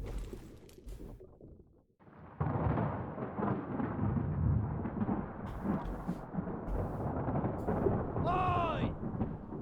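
Rumbling thunder of an approaching storm in Return of the Obra Dinn, rolling continuously across the scene with a sharp, ringing tonal sweep near the end.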